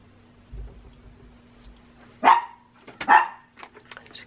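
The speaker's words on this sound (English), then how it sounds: "Excuse my dog." An indoor dog gives two sharp, loud barks close by, with a softer yip afterward, over a quiet room hum.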